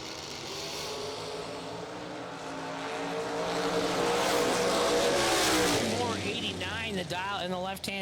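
A Datsun 280Z and an Olds Cutlass Supreme launch side by side at a bracket drag race, engines roaring louder as they rev and pull away.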